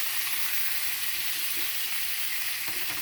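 Steady, dense sizzling of lamb chops frying in hot oil in a cast iron pan, close and continuous for the whole stretch, with faint clinks and crackles.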